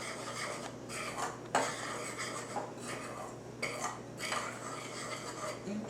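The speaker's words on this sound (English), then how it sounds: "you just mix them with a spoon until they are thoroughly mixed together" A spoon scraping and rubbing around a bowl while mixing dry baking ingredients, soft gritty strokes repeating at a steady pace, close and fairly quiet.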